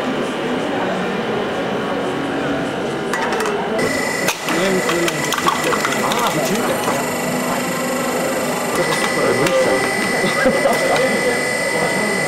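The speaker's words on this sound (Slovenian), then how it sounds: "s tem krmilnikom se naredi program in se stisne pločevinka v paštetko" A PLC-controlled mechatronic machine at a school mechatronics forum runs through its cycle to crush a drink can, giving a loud, busy mechanical whir with a sharp clunk partway through and steady machinery noise after.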